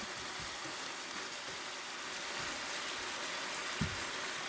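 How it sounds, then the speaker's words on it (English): Hot honey ginger vinegar sauce simmering and reducing in a pan over medium heat, a soft, even bubbling sizzle that runs continuously with a faint spatter here and there. "you want this to reduce down so that some of the vinegar cook out"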